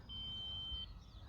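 A steady high-pitched electronic timer tone sounds continuously for about a second, fairly loud over a low rumbling background hum, then cuts off.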